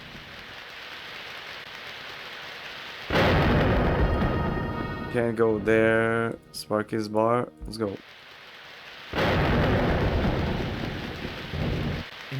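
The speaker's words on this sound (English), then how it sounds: "In the pouring rain outside Sparky's bar lies a totally unconscious man." Pouring rain hisses steadily with rumbling thunder in the DOS video game DreamWeb, set outside Sparky's bar; the downpour drops out briefly while a character speaks, then returns loud and continuous.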